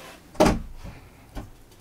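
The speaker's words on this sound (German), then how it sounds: "Mach die Tür zu, ne, wegen Kopf." A door shuts with one firm thud, a smaller knock following about a second later, heard nearby in a quiet room.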